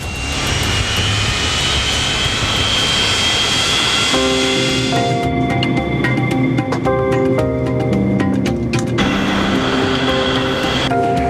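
Loud, steady roar of Boeing 737 jet engines with a rising whine and a high tonal hum, continuous throughout, heard from close inside or near the aircraft.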